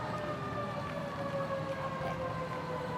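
An ambulance moves through a Christmas parade with its siren sounding, a steady wailing tone that holds loud and continuous and carries over the crowd.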